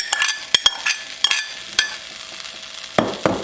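Lentils (dal) get tipped into a pan of dry-roasted spices and stirred, with scraping spoon strokes and soft clinks over a faint sizzle, ending with two sharper knocks.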